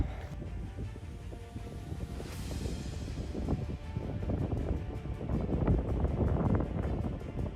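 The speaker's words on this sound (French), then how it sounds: "Le vent s'est levé" Wind roars steadily across the microphone on Piton des Neiges, Réunion, gusting louder toward the end, with a low rumbling undertone and no voices.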